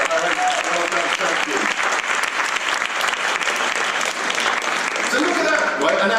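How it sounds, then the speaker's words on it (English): Loud, close applause from a science festival audience at a live comedy-style talk, dense continuous clapping throughout with a faint murmur of voices mixed in. "Ladies and gentlemen, fantastic round of applause for Harry"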